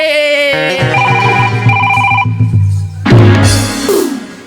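A mobile phone rings loudly and close by in a comedy sketch, its melodic ringtone repeating in bright, tonal bursts with no talking over it.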